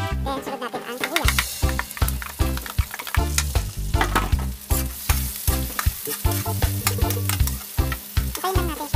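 Garlic and onion fry in a pan with a loud, continuous sizzle, broken by regular scraping strokes of stirring close up; no voice is heard.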